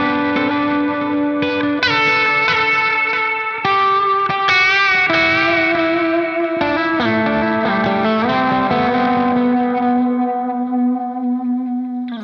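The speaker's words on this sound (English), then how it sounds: "in the middle of a solo, when you know you're gonna give a lot of space in between notes, you can give a little bit more delay and reverb" Electric guitar played as a slow, spacious solo through an Ernie Ball Ambient Delay pedal, sustained notes blooming with long echo repeats and reverb that trail off alone into silence at the end.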